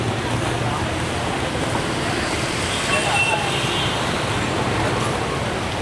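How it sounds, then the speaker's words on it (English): Street traffic in Ho Chi Minh City during the monsoon rains on flooded streets, a loud, steady wash of engines and wet road noise close by with no distinct breaks. "Ho Chi Minh traffic here."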